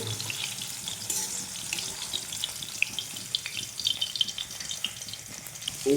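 Pumpkin pieces fry in hot oil in a pan, a continuous moderate sizzle with faint crackles and light stirring sounds close by.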